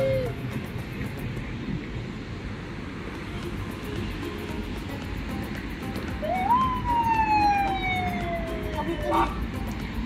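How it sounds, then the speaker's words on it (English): A siren from a passing emergency vehicle heard outdoors during a family walk, rising and then sweeping down steadily in pitch as it passes, moderately distant over street noise. "There is ambulance."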